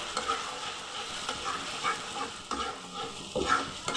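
Masala is fried and stirred in a pan with bhedailota and narasingha leaves, producing a soft sizzle under irregular scraping strokes and light clatter of the utensil, close and moderately quiet.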